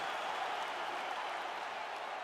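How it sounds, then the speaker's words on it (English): A large arena crowd at a mixed martial arts fight, with Jon Jones facing Alex Pereira, cheers and applauds steadily at the end of a full 25-minute bout, a dense continuous wash of clapping and crowd roar with no gaps. "Stand and cheer, ladies and gentlemen."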